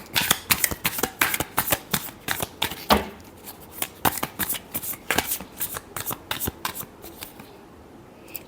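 Tarot cards being shuffled by hand, a close series of crisp riffling flutters and taps in quick irregular bursts, fairly quiet and alone.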